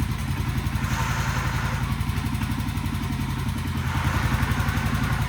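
A 1967 Sears Super 12 garden tractor engine runs at a throttled-down speed, with an even, rapid thumping beat that stays close and steady throughout and carries no voices.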